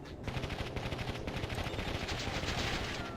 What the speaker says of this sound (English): Flame tank just ravages that building.